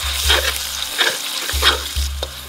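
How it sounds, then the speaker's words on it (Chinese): Minced pork sizzles and crackles in lard over low heat in a wok, with a spatula scraping and stirring in repeated bursts over a low steady hum. "肉末先下，温度要低把这个肉末在这个锅子里面滑散"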